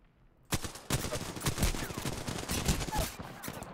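Rapid automatic gunfire in the shooter game PUBG rattles out in dense bursts after a short quiet lead-in, loud and close, continuing almost without pause.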